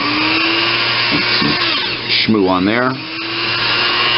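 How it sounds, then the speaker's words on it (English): A 6 or 8 inch buffing wheel polishing the nickel-plated parts of a Singer 127 sewing machine: a loud, steady motor whine whose pitch bends and roughens as a part is pressed against it, with someone talking over it. "with the 6 or 8 inch buffing wheel, whatever's on that thing at the moment"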